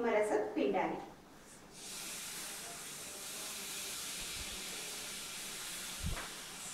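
Gram flour (besan) frying in a pan sends up a steady, even hiss after a brief burst of speech at the start, with a single soft knock near the end.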